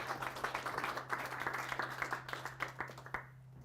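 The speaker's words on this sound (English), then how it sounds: "Why don't you give him one more round of applause" Small audience at a tech meetup giving a round of applause after a talk, quick scattered claps over a low steady hum, fading out toward the end; fairly faint overall.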